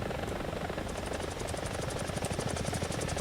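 A helicopter in the War Thunder video game flies low with a loud, steady engine drone and rapid rotor thumping that grows more distinct partway through, with no talking.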